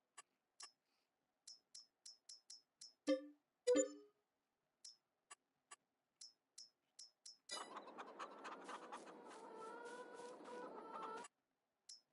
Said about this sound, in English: Gonna sell those freaking roosters.